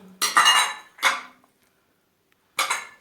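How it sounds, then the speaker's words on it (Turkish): A metal spoon stirs yeast and sugar in lukewarm water, scraping and clinking against the bowl in three short bursts with a quiet pause between them. "Bu eriyene kadar şöyle ben bir karıştırayım arkadaşlar"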